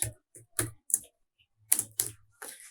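Keystrokes on a computer keyboard come in short bursts, a few distinct clicks separated by pauses, close and clear with no talking.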